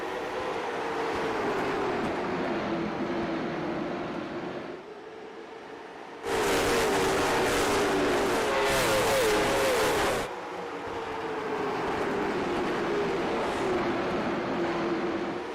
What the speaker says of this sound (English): We're going to turn things over to the sounds of these late model stock cars